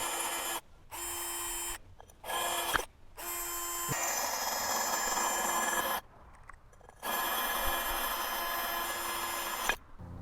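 A drill bores a hole in a glass vase in several faint whirring bursts that start and stop with short pauses between them, and no one speaks.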